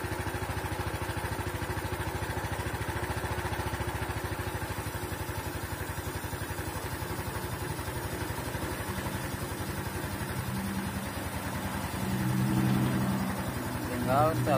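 A Yamaha Mio scooter engine idles just after a valve adjustment, putting out a steady, smooth, close putter with a faint clatter, and a slight swell near the end.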